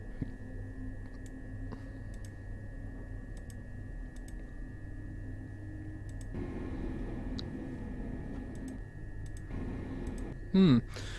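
Light, sparse clicks from the air-conditioning controls in a Train Simulator 2020 cab on a London Victoria to Chichester service, a few soft taps spread out over a steady cab hum.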